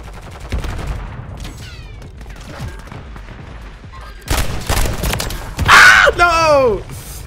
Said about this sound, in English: John Wick Pistol.